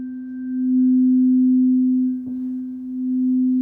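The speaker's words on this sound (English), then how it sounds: "healing with this beautiful earth-tuned tuning fork" A giant earth-tuned tuning fork after a light tap gives a steady, pure low hum that rings loud and even throughout, with a faint touch partway through and no voices.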